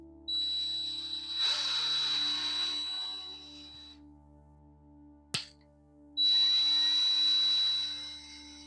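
A power drill whines through PVC pipe in two separate bursts of a few seconds each, close and fairly loud, a steady high motor tone with grinding cut noise, with a sharp click and a quiet pause between.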